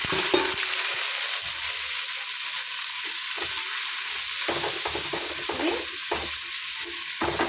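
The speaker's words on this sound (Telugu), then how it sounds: "light gold golden brown colour వచ్చే వరకు ఆనియన్స్ని ఫ్రై చేసుకోవాలి" Onions fry in a pan toward golden brown, a continuous bright hiss of sizzling oil with intermittent stirring scrapes, close and steady throughout.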